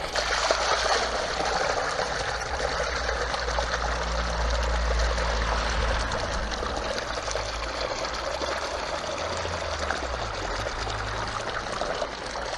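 A Marinaqua MP 50-M3 energy-saving pump fills a 90-litre tub, producing a constant splashing pour of water that stays steady and close throughout, with no speech.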